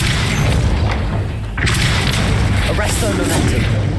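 A Depulso spell lands with a heavy booming thud in Hogwarts Legacy, set against dense, continuous game noise and low rumble, with a brighter burst of impact debris midway.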